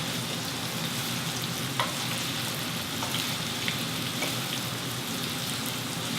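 Peppers fry in a pan with salt fish, giving a loud, steady sizzle close by with a few faint clicks and stirring sounds and no talking.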